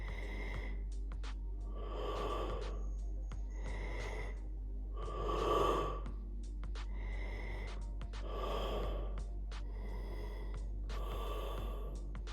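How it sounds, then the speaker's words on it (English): Slow breaths drawn in and pushed out through the inhale and exhale valves of a respirator mask, about five rhythmic cycles of soft hissing airflow with valve puffs, close and alone. "So just watch me take a couple breaths."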